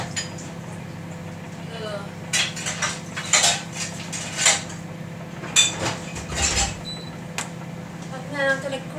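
Bowls being cleared from a kitchen counter, scattered clinks and clatters of dishes and utensils, some close and fairly sharp, with a person talking through much of it.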